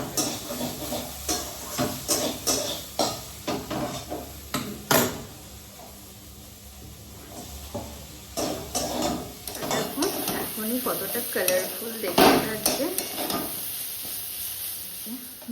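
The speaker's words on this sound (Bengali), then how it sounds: "এখানে সবজি ভাজা হচ্ছে, মানে বেশি কিছু নেই, বিনস, ক্যাপসিকাম, একটু পেঁয়াজ, ব্রকলি আর হচ্ছে গাজর আছে" Beans, capsicum, onion, broccoli and carrot fry in a pan, with a soft sizzle under repeated scraping and clattering stirs from a spatula, close by, while someone talks over the cooking.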